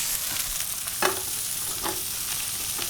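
Mushrooms sizzling in a very hot pan as they are tossed, a steady loud frying hiss with a couple of brief scraping stirs, no voices.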